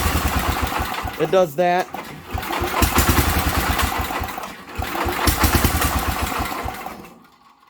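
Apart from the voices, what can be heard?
Sears tractor engine trying to start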